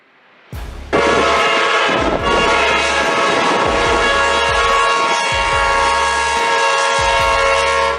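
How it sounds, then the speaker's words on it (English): A train speeds along railroad tracks toward a car stuck on the crossing, its loud horn blaring steadily for several seconds over the rumbling, rhythmic clatter of wheels, close and continuous. "Stuck on the railroad tracks with a train speeding towards you"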